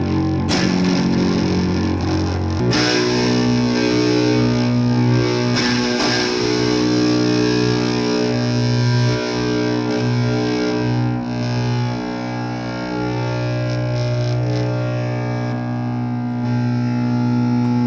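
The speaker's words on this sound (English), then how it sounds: "You can hear how when I've got the fuzz boost in there, there's a bit of a higher pitch." A loud, heavily fuzzed electric guitar sustains thick distorted chords, buzzing and saturated, with a few pick attacks and shifts in tone.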